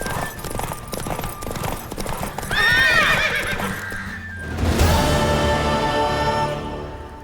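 A horse whinnies loudly with a rising, wavering neigh, followed by snorting and hoof clatter amid busy game-like background sounds in The Witcher 3: Wild Hunt.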